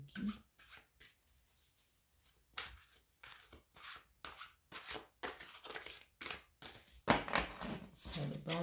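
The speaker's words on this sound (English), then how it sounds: "I'm gonna shuffle." Tarot cards are shuffled in repeated quick bursts of riffling and rubbing, close and fairly quiet, with short pauses between each pass.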